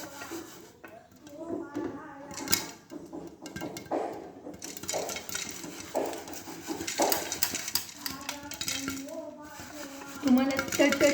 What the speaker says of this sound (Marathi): असं असं कुकर आपल्याला हाताने हलवून घ्यायचं आहे